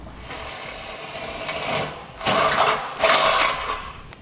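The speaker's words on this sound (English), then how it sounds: "you're going to want to drill through the second layer as well" A power drill whines steadily with a high-pitched tone as it bores through the second metal layer of a 2009 Pontiac G6's front end, then cuts out and restarts in two short bursts, close and fairly loud.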